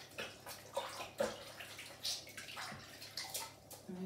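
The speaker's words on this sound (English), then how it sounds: "Maybe wash our hands quickly." Running tap water splashes over hands being washed during a cooking activity, a faint, uneven wash of water with small splashes and rubbing, close by with no talk.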